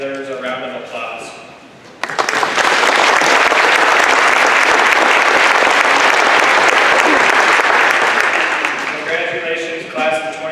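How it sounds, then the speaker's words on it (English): Loud, sustained applause from a high school graduation crowd bursts in and fills the hall for about eight seconds before tapering off, with voices heard before and after the clapping. "I think that deserves a round of applause"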